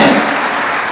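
Short burst of dense audience applause at a Brahmin community talent award ceremony, loud and steady throughout with no voices over it.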